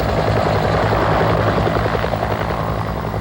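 Huey transport helicopters fly low over desert, their loud, continuous rotor thump and turbine roar filling the whole stretch, close and steady with no voices.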